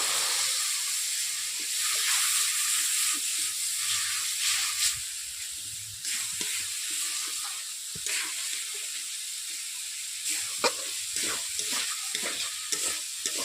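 Chili powder masala with papaya, potato and chickpeas sautéing in a pan, a continuous hissing sizzle with intermittent spoon scrapes and clacks, steady and close.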